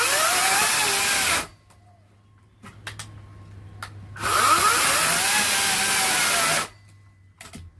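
A Ryobi 18-inch 40V brushless cordless chainsaw cutting firewood, two loud bursts of high motor whine with the chain biting into wood, separated by a quiet gap with a few light knocks.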